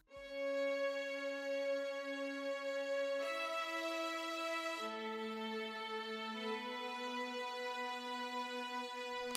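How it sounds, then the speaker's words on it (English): Kontakt Session Strings on a basic preset with reverb sustain a smooth, continuous tone, the same note played in two octaves, with the pitch shifting a couple of times and no voices. "these strings from Contact called Session Strings, and I just used the basic preset from it and put some reverb on it."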